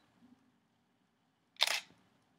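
A Canon T4i DSLR fires its shutter during a slow-shutter-speed exposure: a single sharp mechanical clack up close, then a faint closing click a moment later, with quiet room tone before it.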